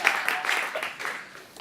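Scattered audience clapping at an investor pitch event in Melbourne as the next speaker is called up, fairly faint and uneven, tapering off over a moment.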